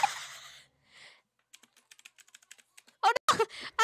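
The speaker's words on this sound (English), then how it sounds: "I was typing hello!" Quick, light keystrokes on a computer keyboard come in a sparse, uneven run of clicks, close and fairly quiet, with short bursts of nearby voice before and after.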